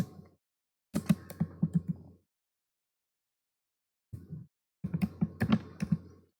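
Bursts of rapid typing on a computer keyboard, two clusters of quick, close keystrokes separated by a few seconds of silence, with no talking.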